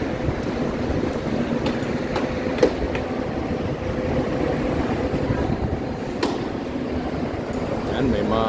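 A light rail (LRT) train runs near the PITX bus terminal, with a steady rumble and clickety-clack rolling on throughout and faint sharp clicks now and then.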